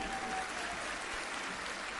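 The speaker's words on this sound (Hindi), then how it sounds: "ताली बजाकर सभी संतों का स्वागत करें" An audience at a Sanatan Dharma Sansad gathering at the Mahakumbh claps to welcome saints, a fairly faint, steady wash of many hands heard from a distance and continuing evenly, with no voices over it.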